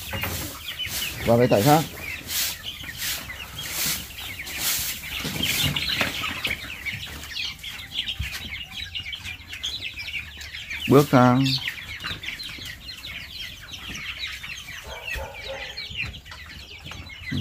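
Farm chickens cluck and squawk as they are herded along, with a few sharp louder outbursts among steady chatter, while people talk nearby.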